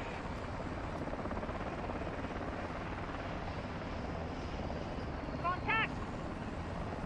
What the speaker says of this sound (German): blockier sie mit dem Heli.